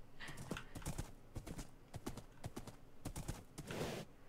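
Horse hooves clip-clopping in a block-building video game, a quick, steady run of sharp hoof taps lasting several seconds at moderate loudness with no talking over them.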